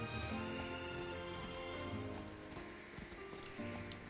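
In a video game, horse hooves clip-clop in a steady, quiet rhythm over a faint musical background, with no one talking.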